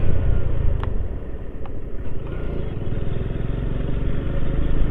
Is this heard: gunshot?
no